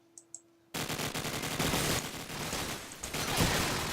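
Gunfire in a Call of Duty 4 promod competitive match: a few faint clicks, then a dense, sustained burst of rapid automatic fire and echoing shots close by.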